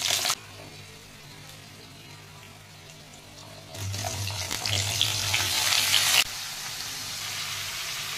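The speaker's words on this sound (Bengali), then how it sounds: "ভাজা সুন্দর গন্ধ বেরোলে লাউ টুকরো করে রাখা সেটা দিয়ে দিলাম।" Bottle gourd pieces are added to hot oil with mustard seeds, green chillies and bay leaves, giving a soft sizzle that swells into louder frying, then settles to a steady hiss.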